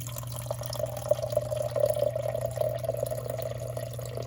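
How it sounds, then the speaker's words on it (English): A tap runs while water is heated for a chemistry preparation, giving a steady close hiss and trickle with a constant low hum beneath, unbroken and without voices. "Just gonna turn on the water."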